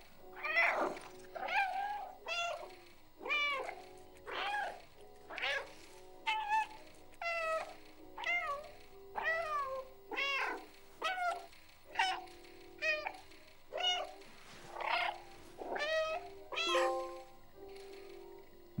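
Repeated meows from the cat in the video game Stray, a steady run of short, close, clear calls one after another, with faint game sounds underneath.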